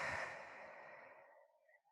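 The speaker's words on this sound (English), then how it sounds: "then breathe out through your mouth" A slow, breathy exhale out through the mouth during a deep diaphragmatic breathing exercise, strongest at the start and gradually fading over about two seconds, heard alone and close.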